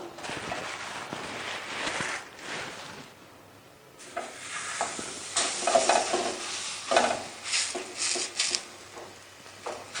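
A maize roti with jaggery cooking in desi ghee on a griddle over a stove, soft crackling sizzle that swells louder after a brief lull, with faint scraping and bubbling.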